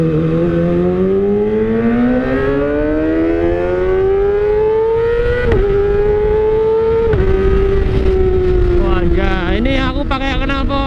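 A Kawasaki ZX25R with an Austin Racing exhaust silencer accelerates with a loud, close, high-pitched whine that climbs steadily in pitch, broken by quick gear-shift drops before rising again.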